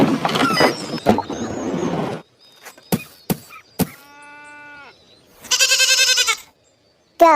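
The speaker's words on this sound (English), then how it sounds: "Goat." A domestic farm goat gives one loud, quavering bleat about a second long. Before it come a burst of noisy rustling, several sharp mechanical clicks and a short tonal whine.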